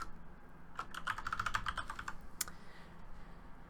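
Quick burst of keystrokes on a computer keyboard entering a MySQL password during WAMP setup, a dozen close, light clicks over about a second, then a single firmer key press, in a quiet room.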